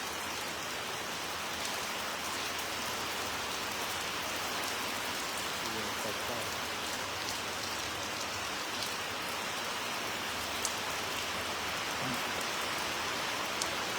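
Steady rain pouring onto a sturdy pavilion roof, a constant dense hiss with faint scattered drips, even and moderately quiet throughout.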